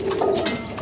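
Pigeons resting in a loft after winter give a brief, soft, low coo up close.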